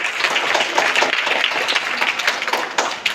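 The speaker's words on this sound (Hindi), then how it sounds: "रोशन के लिए एक बार जोरदार तालियों से स्वागत करिए आप लोग" A crowd claps in a lively, steady burst to welcome Roshan at a gathering, dense applause from many hands continuing throughout with no pause.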